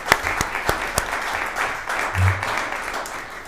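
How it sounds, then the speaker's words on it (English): Audience applauding at a township board of trustees meeting, a room full of steady clapping with a few sharp close claps, briefly joined by a low murmur of voices. "Colonel, the applause should go to you too"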